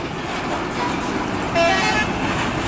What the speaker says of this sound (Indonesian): ada telolet-nya tuh